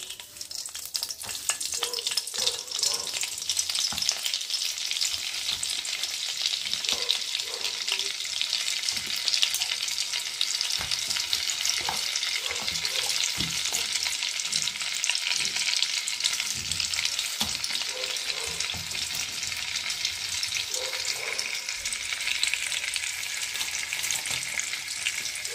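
Butter melts into hot white oil in a pan, producing a continuous loud, dense sizzle with light stirring taps throughout.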